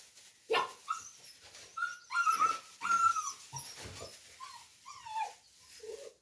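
Several dogs whimper and whine in high, wavering cries, close by, with short yelps in between and no talking, at a village farm as they wait for cheese.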